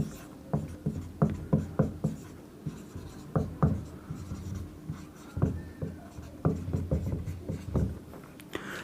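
Pen strokes on paper as linear equations are written out by hand, quick scratchy taps and strokes in short bursts, close and fairly clear, with no talking.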